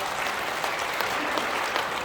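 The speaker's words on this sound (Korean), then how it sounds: "여러분 큰 박수 부탁합니다." Audience applause fills a rally of civic groups gathered for an Easter service event, a dense, steady wash of clapping from a large crowd, close and continuous without talk.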